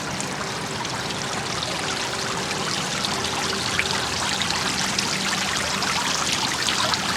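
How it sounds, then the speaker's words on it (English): A garden water feature trickles steadily among spring tulip beds, a continuous soft splashing and dribbling of water heard close and alone, with no voices. "And water features are always lovely."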